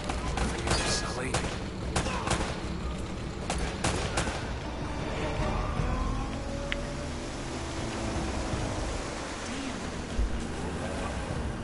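Dense, continuous gunfire from the video game Uncharted: Drake's Fortune, with sharp shots rattling over a roaring, surf-like background of waves and a boat, loud and sustained throughout.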